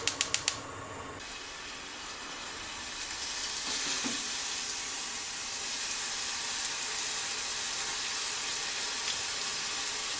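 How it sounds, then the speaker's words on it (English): Japanese hamburger steak (hambagu) sizzling in a frying pan, a loud, steady hiss of frying that follows a few quick sharp clicks as the stove is lit, with no voices. "I'm going to cook the hamburger steaky now."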